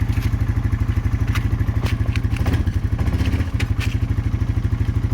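A Honda four-wheeler ATV idles with a close, rapid, even putter, and a brief clunk and shift in tone midway marks the change up into second gear, with no talk.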